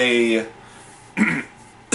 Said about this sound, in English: sorry, gotta clear my throat again